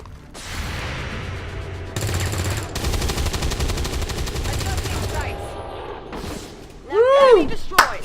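Gunfire rings out in the video game XCOM 2 as sustained automatic bursts with heavy thuds, then a short pause. A final loud shot is followed by whooshing electronic effects. A voice speaks over part of it.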